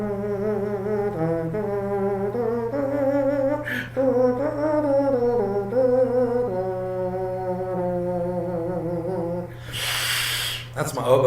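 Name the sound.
voice imitating an oboe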